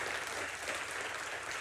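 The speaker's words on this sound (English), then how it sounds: "Please give a big round of applause to the winners of the first ever Creative Excellence Awards on YouTube." Audience applause for award winners at a marketing keynote event, a steady dense clapping that fills the short stretch without pause, moderately loud and even.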